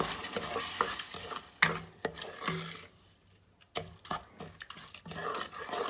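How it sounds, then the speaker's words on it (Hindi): Washed moong dal is stir-fried with fried onions and spices in a pan, giving close sizzling with scraping stirs and clattering spoon strokes that rise and fall in irregular bursts. "ये देखिए दाल जो है वो 2-3 मिनट ही हम भूनेंगे, ज़्यादा नहीं भूनेंगे"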